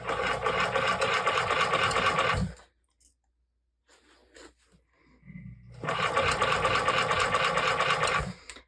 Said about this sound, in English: So I need to make sure I'm not stretching the leather as I'm sewing